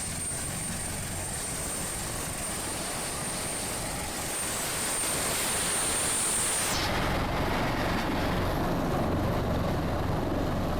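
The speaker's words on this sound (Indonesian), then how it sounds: "Tim SAR gabungan menggunakan helikopter untuk memenuhi kebutuhan pasokan bagi warga Luwu" An Indonesian Air Force search-and-rescue helicopter supplying flood-isolated villages in Luwu, South Sulawesi, gives a steady, loud rotor and turbine roar with broadband wash, a high whine that cuts out near the end, and no talk.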